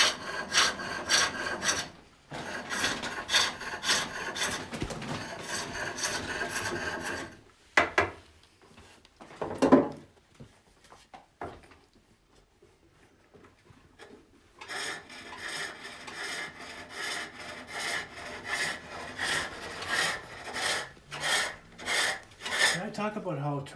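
Rhythmic scraping cuts of a hook tool on green wood as a Swedish-style locking lidded box spins on a foot-powered pole lathe, bursts of shaving separated by pauses and clacks, close and moderately loud.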